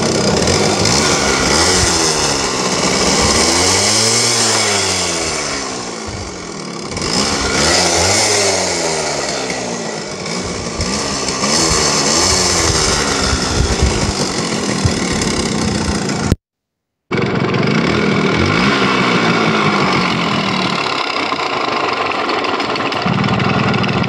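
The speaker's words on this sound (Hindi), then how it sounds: "इंजन से बहुत गंदा तरीके का साउंड आ रहा है" A Yamaha RX100 motorcycle engine with a badly worn crank, run after sitting for ten years, runs roughly and loudly with an uneven, surging rhythm that rises and falls, briefly cutting out before carrying on.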